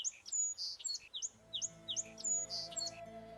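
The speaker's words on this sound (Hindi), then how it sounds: "घर के आंगन में फुदकती गौरैया कभी झुरमुट में, कभी घर के रोशनदान में चहकती हुई सी।" House sparrows chirp in a rapid series of short, high tweets, clustered and fairly faint, with a soft steady tone droning underneath in the latter half.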